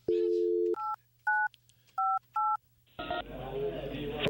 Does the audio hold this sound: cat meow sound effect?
no